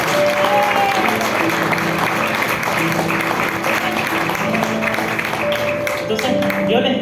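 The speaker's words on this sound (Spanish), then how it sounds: "Vamos a dar un aplauso." Church congregation applauding during an evening service, loud sustained clapping with crowd noise and faint tonal music underneath.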